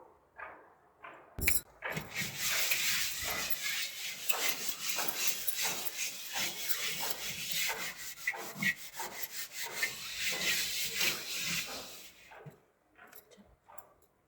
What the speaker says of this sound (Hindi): ये गांव का रिवायती और देसी टोटका है काले बर्तन को साफ करने का तरीका।